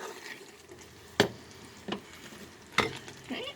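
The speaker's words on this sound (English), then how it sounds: "Give this a stir. This is looking very creamy." Butternut squash and mushroom risotto being stirred in a pan, heard as a few separate scraping strokes over a soft, steady bubbling background, each stroke a short burst at close range.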